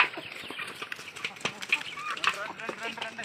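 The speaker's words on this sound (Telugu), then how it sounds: "ఇవి మా కోళ్ళు అన్నమాట." Chickens cluck and peck nearby in short, scattered bursts, with a person talking over them throughout.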